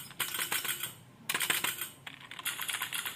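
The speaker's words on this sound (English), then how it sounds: "For me, I like clicky sound, so I'll pick blues" Rapid typing on a keyboard fitted with clicky blue mechanical switches: dense, crisp keystroke clatter in close bursts, broken by two brief pauses, with no voices.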